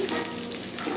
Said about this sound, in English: So let me go ahead and add the green chilies